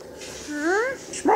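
A small dog gives a rising whine-like yip followed by a sharper bark, close by in a home, with people talking around it.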